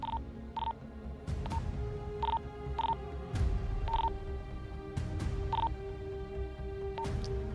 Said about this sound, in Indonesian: saya matikan handphone dulu bentar ya,